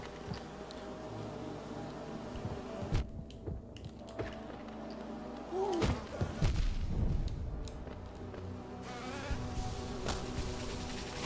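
A big fat bee enemy in the video game Hollow Knight buzzes with a steady, droning insect hum that persists throughout, with occasional sharp game hits and effects breaking in.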